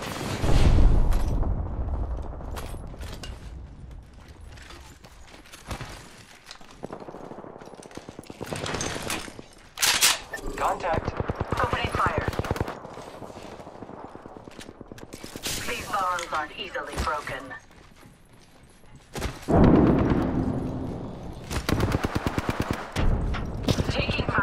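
Rapid bursts of gunfire from Apex Legends gameplay come in loud volleys separated by quieter stretches, with mechanical clicks and reload sounds mixed in and a voice talking at times.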